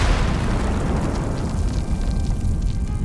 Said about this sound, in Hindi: इस धमाके की गूंज दूर दूर तक सुनी जा सकती थी।